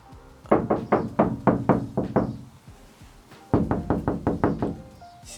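Two series of knocks on a camper van panel treated with sound deadening, each about eight rapid, fairly loud dull thuds with a deeper, damped tone and a short pause between the series, with no talking.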